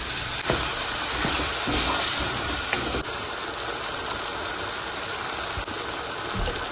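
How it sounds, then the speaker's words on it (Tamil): Water poured into frying masala of onion and spice powder in a hot pan for a mushroom pepper fry, giving a loud, steady steamy hiss and sizzle that runs the whole length without talk. "இப்போ நாங்கள் இதுக்குள்ள வந்து கொஞ்சமாக தண்ணி சேர்க்கிறோம்"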